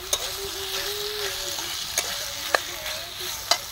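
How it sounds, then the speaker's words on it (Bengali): Slit green chillies and chopped tomatoes fry in a pan with a close, steady sizzle, while a spatula stirs and taps against the metal a few times. "কাঁচা লঙ্কা চেরাগুলো দিয়ে দিলাম। শুকনো লঙ্কার বাটা দিইনি আজকে আমরা। টমেটো কুচানোগুলো দিয়ে দিলাম।"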